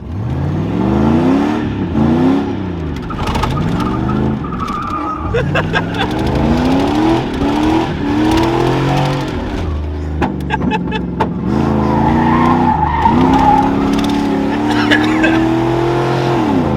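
An LS-swapped G-body car revs hard through sweeping engine pitch swings while its tires skid and squeal in donuts, loud and continuous for the whole stretch, with a voice briefly audible over it.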